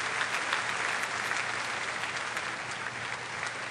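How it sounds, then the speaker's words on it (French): Concert audience applauding as a conductor walks on before an orchestra performance, a steady wash of clapping from a full hall, even and unbroken throughout. "Voilà, tout le monde l'applaudit."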